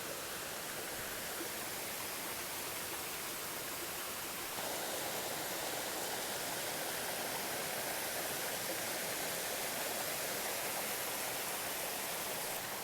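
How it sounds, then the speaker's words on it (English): The Hardcore Cascades waterfall on the Appalachian Trail roars as a steady, broad rush of falling water, close and loud throughout with no voices. "These are the Hardcore Cascades."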